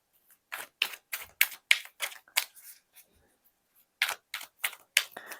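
Tarot cards being handled and drawn from a deck, giving a rapid series of crisp, close flicks and snaps in two quick bursts separated by a short pause.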